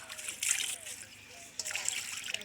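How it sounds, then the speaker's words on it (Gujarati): Dishes being washed by hand with water, quiet splashing and trickling in two short bursts, close by, with faint voices in the background. "હા, આવી રીતે ઠામડા ધોઈ"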